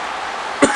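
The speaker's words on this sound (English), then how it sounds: "excuse me, I had a cough." A single short cough bursts out near the end, close and fairly loud, after a steady stretch of background hiss.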